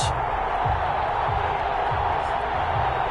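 Steady roar of a crowd filling a video game American football stadium before a New York Jets versus Atlanta Falcons matchup, a dense continuous cheer with low rhythmic thumps pulsing underneath at regular intervals.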